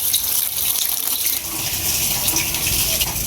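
Water running from a tap while flour is washed off at home, a steady close splashing hiss with no talk.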